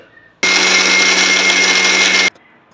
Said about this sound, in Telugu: సో చల్లారింది, గ్రైండ్ చేస్తాను